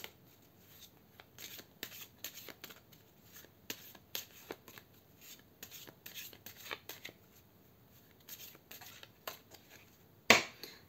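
Tarot cards shuffled by hand for a cross spread, quiet, close riffling and slapping bursts in an irregular rhythm, ending with one sharper snap near the end.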